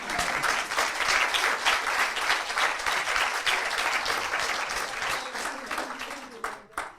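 Sustained, dense applause from an audience at a gardening meeting, steady and full for several seconds before tapering off near the end.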